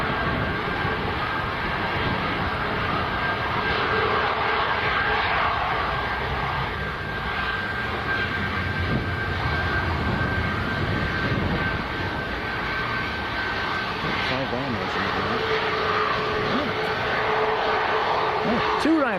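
Two Ryanair airliners taxiing out for departure at Leeds Bradford Airport, a steady whining jet engine drone with a sustained tone running throughout, moderately near, with a voice speaking at times over it.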